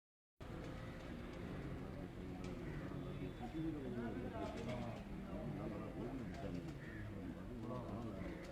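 A flock of pigeons coos continuously on a rooftop, their soft, rolling calls layered close together. Someone talks over them throughout.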